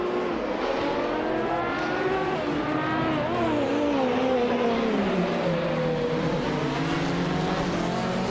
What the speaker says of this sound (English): the race just kicked off at Bathurst, and leading the pack is Nige in a classic 1978 Porsche 935/78